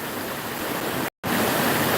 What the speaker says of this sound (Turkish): Ünye'nin kenar mahallesinde şehrin hemen göbeğinde bir şelale arkadaşlar.